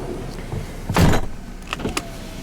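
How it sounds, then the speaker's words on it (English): A single solid thud of a 2010 Mercedes ML350 car door shutting, followed by a brief faint rattle and quiet hum. "we'll go ahead and close the door."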